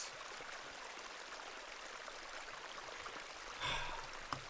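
A beck in Hob's Barrow gives a faint steady rush of tumbling water, with a brief louder splash-like burst near the end.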